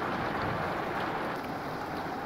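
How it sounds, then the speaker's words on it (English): During a storm, rain drums on the roof of a Class A motorhome, heard from inside as a constant, dense patter and hiss without breaks or voices. "we're just gonna hang out here and enjoy the rain dancing on the roof"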